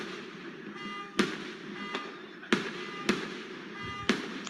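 Fireworks in a video playing back, a series of sharp cracking bangs spaced about a second apart over a steady hum, moderately loud with no talk.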